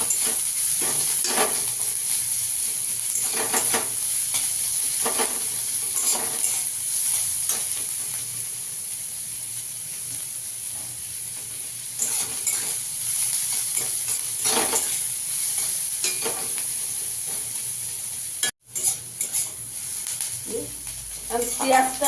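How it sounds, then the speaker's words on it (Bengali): Onion and chopped ginger fry in a pan after eggs were fried, a continuous close hiss with periodic stirring scrapes and a brief drop near the end, a voice speaking over it at times. "এবার আদা কুচিটা দিয়ে দেবো, একটু হালকা করে ভেজে নেবো।"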